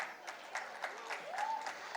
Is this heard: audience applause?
yes